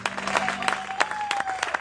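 A church congregation claps in acclamation of the Lord, a fairly quiet patter of uneven hand claps with a steady tone sounding underneath.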